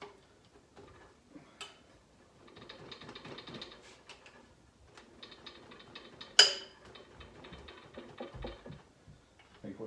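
A bolt being tightened with a ratchet on a 1936 Ford Fordor, giving close, quiet mechanical clicking in irregular bursts with one sharp metallic clank partway through.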